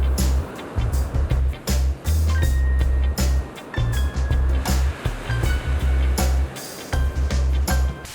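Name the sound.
ocean surf at an oceanside spot on Kwajalein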